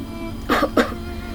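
Two short, sharp coughs in quick succession, close and clear against a quiet room hum.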